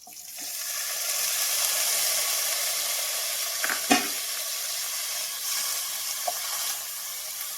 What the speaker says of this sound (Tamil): நூறு கிராம் பன்னீர் வந்து கட் பண்ணி வச்சிருக்கிறது இதை வந்து போட்டு நம்ம ஃப்ரை பண்ணி எடுத்துக்கலாம்